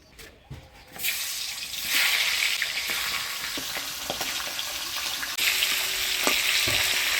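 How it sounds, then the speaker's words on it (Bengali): A fish head frying in hot oil in a village kitchen, opening with a few clatters before a loud steady sizzle takes over, punctuated by occasional sharp pops and scrapes. "এবার মাছের মুড়াটা ভেজে নিব"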